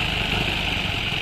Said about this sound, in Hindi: इसकी क्लच दबाने पर कुछ हद तक इसकी आवाज़ ख़त्म हो जा रही है